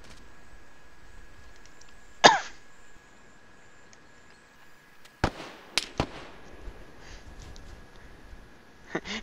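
Mortar explosions in a military shooter video game: a sharp blast, then after a pause a cluster of several quick, loud impacts with trailing rumble against a quiet backdrop.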